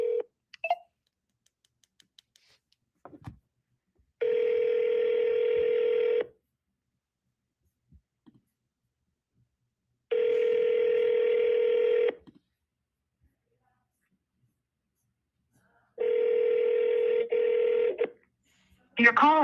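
An outgoing phone call to a car dealership rings through a handset in a quiet room. Three long, steady ringback tones sound at even intervals of about six seconds, with brief faint clicks before and after.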